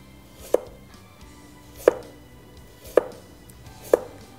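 A sharp chef's knife slices through carrots on a cutting board, four crisp separate chops spaced about a second apart, close and clear against a quiet kitchen background.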